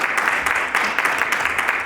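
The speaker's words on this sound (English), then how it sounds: "Round of applause for them." Applause from a dinner audience at a United Punjabis of America annual meeting and appreciation dinner: a dense, steady patter of many hands clapping throughout a short burst, with no voices over it.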